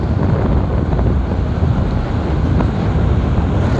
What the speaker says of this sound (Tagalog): medyo malakas na po yung hangin dito